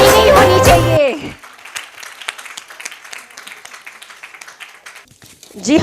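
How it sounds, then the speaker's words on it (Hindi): A crowd at the silver jubilee and award ceremony of the Calcutta Marwari Mahila Samiti claps in a dense, moderately loud burst of applause after a moment of amplified singing, with a voice returning at the end. "तालियों में कमी नहीं होनी चाहिए।"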